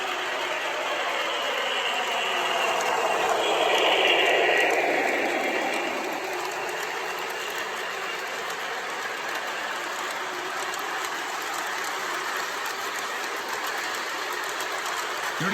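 A 20-year-old model train locomotive runs along its track with a continuous whirring, clattering mechanical hum that swells as it draws nearer in the first few seconds, then settles into a steady, moderately close running noise.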